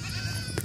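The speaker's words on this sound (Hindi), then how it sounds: "और यहाँ पर बड़े बड़े बकरे जो आ चुके हैं" A brief, faint bleat from large goats gathered near a temple in India, heard close over a steady low background murmur.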